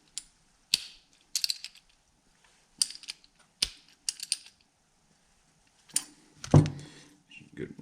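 A wrench clicks in short ratcheting bursts while snugging down a fuel fitting on a nitrous kit, sharp metallic ticks close by, separated by pauses and ending with a duller clunk.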